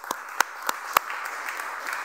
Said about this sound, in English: can we give a round of applause to Luke for being with us tonight?